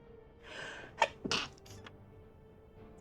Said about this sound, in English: Oh, I think I'm gonna sneeze.